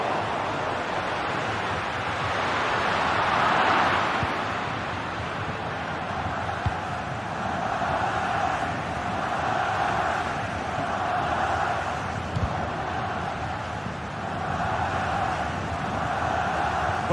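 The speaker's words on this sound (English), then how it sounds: "The crowd encouraging him to take it on." Stadium crowd noise in a Barcelona football video game, a steady, broad roar of fans swelling slightly and holding as a continuous backdrop with no distinct chants.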